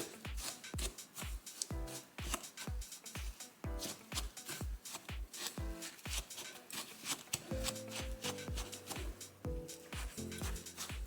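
Softened butter being mixed into a no-bake banana cheesecake base, a steady rhythm of scraping, squishing strokes in a bowl, fairly quiet and close.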